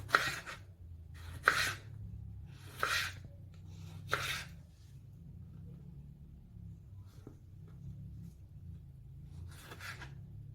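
Tomatoes are sliced into rounds with a knife on a board, giving about six separate crisp cuts spaced a second or two apart over a low steady background hum; no one speaks.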